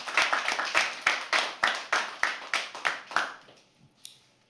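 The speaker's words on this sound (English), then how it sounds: "can we have a round of applause for him?" Scattered clapping from a small open-mic poetry audience, a dozen or so distinct claps in an uneven rhythm, fairly close, thinning out and trailing off toward the end.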